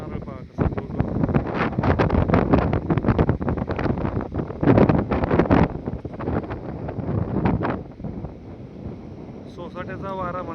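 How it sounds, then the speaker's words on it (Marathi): Strong gusts of wind roaring across sugarcane fields and coconut trees, buffeting the microphone in heavy bursts that ease toward the end, with someone talking over them. "सोसाट्याचा वारा म्हणतात तो या ठिकाणी वाहतोय."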